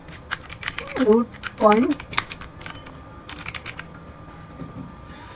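Code being typed on a computer keyboard in a Houdini node setup, heard as quick, close, irregular key clicks running through the clip, with someone speaking briefly over the early part.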